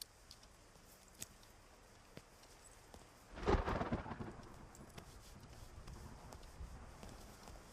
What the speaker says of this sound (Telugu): వర్షం ఇప్పుడప్పుడే తగ్గేటట్లేదు